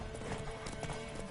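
Horse hooves gallop in The Witcher 3 video game, a quick, dense clip-clop that runs steadily through a short burst over busy game background.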